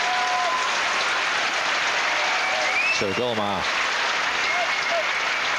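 A tennis crowd applauds warmly and steadily throughout as a French player leaves the court, with a commentator's voice briefly heard over the dense clapping.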